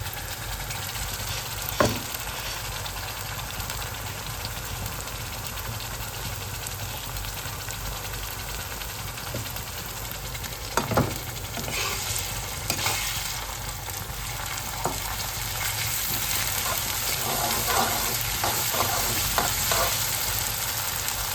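Onion frying with ginger garlic paste for a jackfruit curry, a steady broadband sizzle running throughout with occasional sharper crackles and utensil scrapes as it is stirred, loud and close with no talking.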